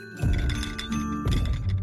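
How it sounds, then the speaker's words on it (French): Human footsteps in a cartoon land as a couple of soft, close thuds and thumps in quick succession, with no voices. "c'est un bruit de pas d'être humain"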